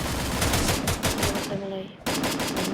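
Rapid automatic gunfire from a video game, aimed at an enemy, rattles out as a dense, loud burst of repeated shots that cuts off briefly before resuming.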